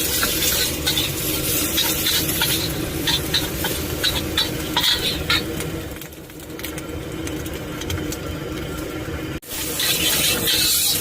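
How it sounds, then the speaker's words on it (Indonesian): Nasi goreng (fried rice) sizzles and gets stirred in a pan at Cirata during a fishing trip, with steady loud frying hiss and repeated scraping stir strokes throughout, no talking. "Nah, goreng nasi goreng di Cirata sambil mancing guys."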